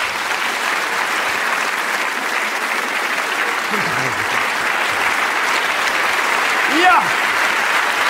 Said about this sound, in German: ich wünsche mir jetzt einen donnernden Applaus